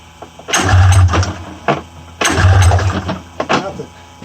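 Recoil-starter pulls on a 1994 Polaris Indy 500 EFI snowmobile engine, two loud ratcheting pulls close by, each a burst of cranking that dies away without the engine catching.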